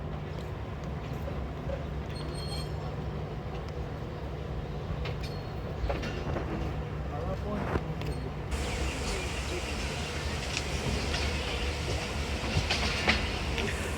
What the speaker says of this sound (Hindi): जी, मूव हो रही है ट्रेन हमारी गुजर खान रेलवे स्टेशन से।